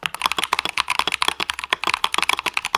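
Rapid typing on an old-sounding computer keyboard with sharp, clacky keystrokes in a quick, uneven rhythm, close and fairly loud, no voices.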